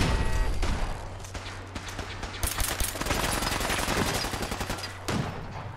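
Turret machine gun fire in Fallout 4, rapid sustained bursts crackling loud and close over a low droning hum, with a short break before the firing resumes near the end.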